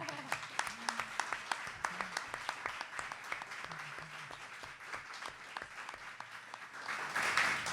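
Applause from an audience at a poetry event, dense clapping that stays steady across the clip, with faint voices underneath and a brief louder swell near the end.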